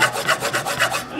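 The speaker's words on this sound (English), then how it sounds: "I'm going to cut right into the head of this hammer." A knife blade carves into a steel hammer head in a series of rough, rasping scrapes, about five strokes in a steady rhythm, close and fairly loud, with no talking.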